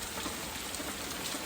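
Steady rain falling on a cold, overcast day, a dense even hiss of drops hitting surfaces that holds at one level throughout with no talk.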